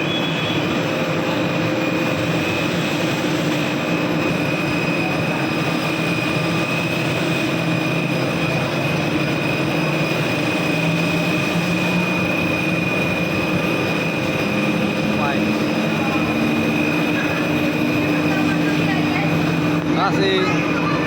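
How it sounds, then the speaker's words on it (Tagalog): A cable car ride at Ocean Park in Hong Kong, filled with a continuous mechanical rumble and hum of the moving cabin and cable, with faint voices in the background. "Cable car. First time natin sasakay dito"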